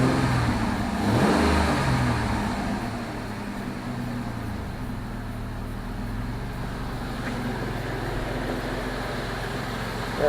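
A 2002 Jeep Liberty with a swapped-in 3.7 engine idles steadily and close by after a hard start, a low continuous rumble with a brief rev near the start and no talking.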